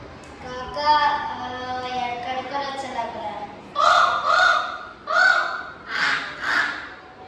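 In a classroom, an adult speaks briefly, then children answer with five loud, rough cawing bursts, imitating a crow with their voices.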